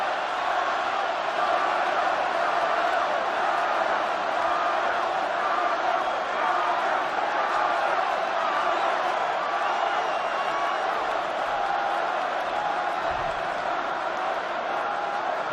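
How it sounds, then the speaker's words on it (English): A packed football stadium crowd at a Vikings–Packers game roars steadily for an injured player, a dense, continuous wash of cheering and shouting with no break. "this crowd is trying to will Donald Driver to get to his feet"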